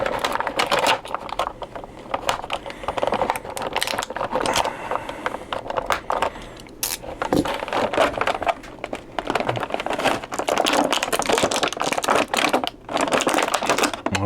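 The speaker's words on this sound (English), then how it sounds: "I'll go ahead and cut these little plastic things, and then there's one around his waist" Plastic ties on a McFarlane Toys Batman (Hush) action figure package being snipped and worked loose, with dense close crinkling and rapid clicky cuts that run on without pause.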